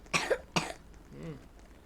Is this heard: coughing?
yes